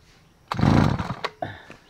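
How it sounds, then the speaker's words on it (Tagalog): A grass cutter's small two-stroke engine that had not been starting is pulled and catches, giving a short, loud burst of buzzing revs and then a few sputtering pops. "dapat ay mga 3 hatak ay andar na po ang ating grass cutter"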